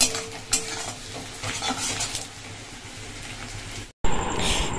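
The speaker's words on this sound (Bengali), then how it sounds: "এখানে দিয়ে দিচ্ছি তেলের মধ্যে তেজপাতা ফোড়ন আর পেঁয়াজ" Bay leaf and onion frying in hot oil, with a steady crackling sizzle and occasional scrapes of a stirring spoon, close and fairly loud; near the end there is a brief cut, then the sizzle returns brighter.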